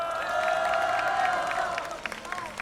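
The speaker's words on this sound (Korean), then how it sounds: "큰 박수로 환영해 주시기 바랍니다." A crowd at a Busan citizens' street rally applauds and cheers to welcome a National Assembly member to the stage, a steady wash of clapping and voices that fades near the end.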